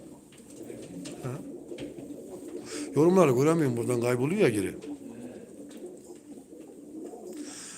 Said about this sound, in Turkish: Herkes şu kırılmamış Sivas kuşlarını bir görsün abi.